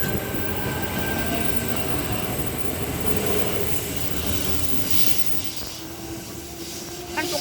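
A Sydney suburban train pulling out of a station platform, a steady loud rumble of wheels and motors with metallic squeal and hiss, continuous and close throughout.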